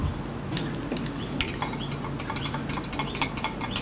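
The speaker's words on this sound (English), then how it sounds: "We'll take it out and we'll give it a bit of a stir, just to see how it's going." Stirring a heated soft plastic bait mixture in a container: a run of light, irregular scraping clicks and taps across several seconds, moderately close, with no talk.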